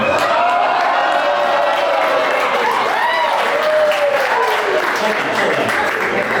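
Comedy club audience cheers and applauds loudly, a dense mix of clapping with whoops and shouted voices rising and falling throughout.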